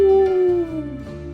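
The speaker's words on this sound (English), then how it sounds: "You can hear these wolves howling." Wolves howl far off in a nighttime forest, a long sustained wavering howl that slowly falls in pitch, faint and distant over steady woodland ambience.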